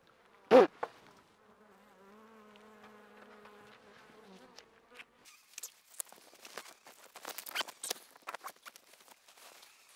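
Honeybees buzz around an opened hive in an apiary as frames are pulled out by hand; a sustained drone hums close by for several seconds, followed by scattered handling knocks and rustles.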